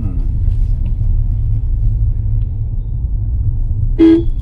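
A low car engine rumble drones steadily during a driving lesson, then a single short car horn honk sounds near the end.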